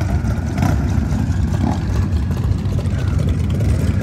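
An antique motorcycle engine running steadily just after being started at a swap meet, giving a continuous low rumbling drone that holds at an even, fairly loud level throughout.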